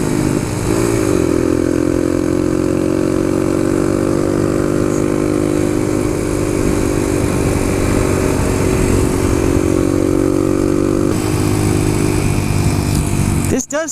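A Suzuki DR-200 dirt bike's single-cylinder engine runs loud and close for the whole stretch, holding a steady throttle with a slight rise in pitch, while a rider talks over it.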